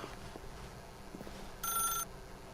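A telephone rings in the video game The Stanley Parable. A single short bright ring cuts in clearly over a quiet, low room hum.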